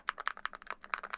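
Typing on a MonsGeek M1 V5 TMR 75% mechanical keyboard with a knob, a quick run of crisp, close keystrokes in an uneven rhythm, heard alone.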